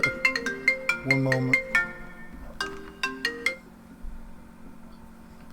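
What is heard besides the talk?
phone ringtone from an incoming phone call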